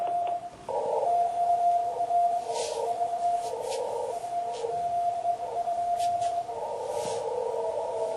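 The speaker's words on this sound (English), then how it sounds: "Here is a Morse code example, and this is one that I actually picked up." Morse code radio signal picked up on a receiver, a steady pulsing tone keyed in short and long beeps over a background of static hiss.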